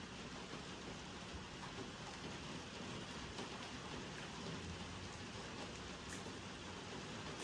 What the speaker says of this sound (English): The rain's really starting to come down in the conservatory.